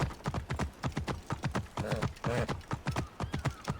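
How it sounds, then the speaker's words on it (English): Rapid rhythmic hoofbeats of a galloping horse in Assassin's Creed Origins drum steadily up close, with a brief whinny partway through. "Whoa, the horses can jump so crazy."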